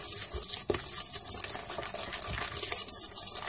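Eggs being mixed with powdered sugar in a bowl for lemon ghriba cookies: a steady close whisking and scraping patter with light clinks, continuous and without talk.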